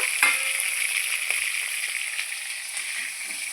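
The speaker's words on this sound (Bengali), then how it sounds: "আমার এই পিসটাও মাছ ভাজা হয়ে গেছে" Oil sizzles steadily as pieces of katla fish fry in a pan, a close, continuous crackling hiss with occasional small pops and no voices.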